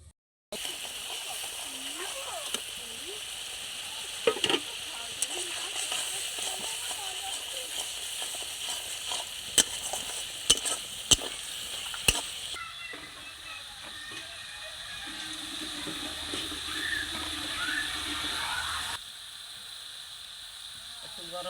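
Water poured into a hot pan of spiced egg curry masala, a bright hissing sizzle with splashes and clinks, easing into a softer bubbling hiss.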